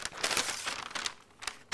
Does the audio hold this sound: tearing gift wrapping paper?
yes